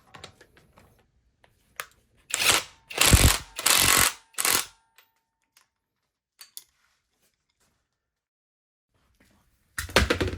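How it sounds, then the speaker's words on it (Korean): An impact wrench tightens a nut in a workshop, firing four short, loud, rattling bursts in quick succession, then falling quiet before one more brief burst near the end. "이 부분은 너트가 풀리면 안 되니까 임팩으로 튼튼하게 조여줍니다."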